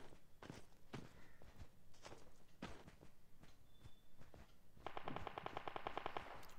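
Distant gunfire in Call of Duty Mobile, rapid automatic bursts mixed with the player's footsteps, moderately quiet and continuous, with a faster rattling burst near the end.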